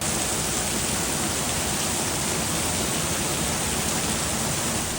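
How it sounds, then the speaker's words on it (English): Heavy rain pours outside in Kuala Lumpur as a dense, steady broadband hiss with no breaks, moderately loud and unbroken by any voices. "even when it's dumping rain like it is right now"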